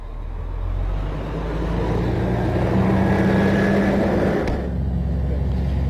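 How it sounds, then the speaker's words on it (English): A fire truck engine running at high idle during aerial water tower operations, a loud steady droning rumble with a faint tonal whine that holds evenly before easing off near the end. "I will re-engage the high idle."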